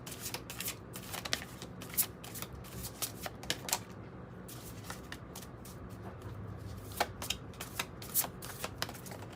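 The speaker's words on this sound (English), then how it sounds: "let's pull some random oracle cards from this deck." A deck of oracle cards is shuffled by hand in repeated riffling bursts of papery slaps and flutters, close and fairly quiet, with short pauses between shuffles.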